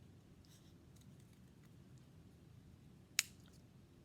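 Scissors snip a single time through craft paper, a brief crisp cut standing out from a quiet room with faint rustling.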